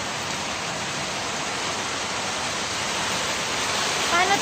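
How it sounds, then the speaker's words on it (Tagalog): Rain falls on a garden with money plants and hibiscus as a loud, continuous broadband hiss that stays even from start to finish, with a brief faint chirp near the end. "Lona, nabutan na tayo ulan."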